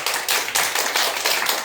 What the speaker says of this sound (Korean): 우리 박수로 또 찬양의 박수 드리겠습니다.